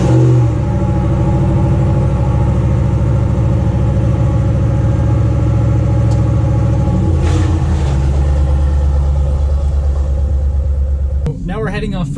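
A truck's engine rumbles steadily at idle in the snow, then its pitch shifts as it pulls away, loud and close throughout, with a brief voice at the very end.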